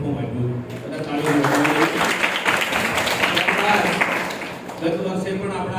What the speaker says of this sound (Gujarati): બધા તાળીઓ.